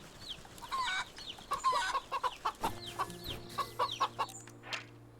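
A plump hen in the video game Wytchwood clucks close by, a rapid run of short, rhythmic clucks over a soft game ambience, with one brief low tone partway through.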